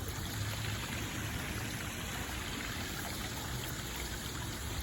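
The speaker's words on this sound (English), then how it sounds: "The natural sounds of the running water" Water runs continuously in an outdoor fountain near a university building entrance, a steady, even wash of splashing flow heard close and alone.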